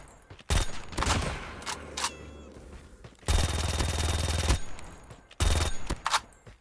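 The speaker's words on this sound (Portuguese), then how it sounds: "tem traçante também, a munição traçante" Bursts of automatic gunfire with tracer ammunition in the Call of Duty Mobile video game: three loud, sustained volleys separated by short pauses, with a few shorter bursts between them and no talk.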